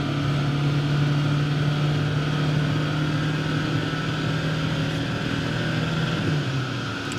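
A 2020 VW T6.1 2.0 TDI-CR 110 bhp van runs on a dyno with a loud, steady engine drone and hum that eases slightly near the end, with no voices.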